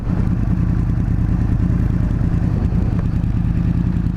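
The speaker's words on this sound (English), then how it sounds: "this is my first time riding an R1, which is pretty cool" Yamaha R1 sport motorcycle engine while riding, a loud steady low rumble with a dense throbbing drone and rushing wind noise throughout, no voices.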